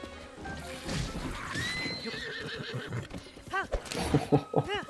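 A horse in The Legend of Zelda: Tears of the Kingdom whinnies in a rising, wavering call, followed by a few snorts and clip-clopping hooves nearby.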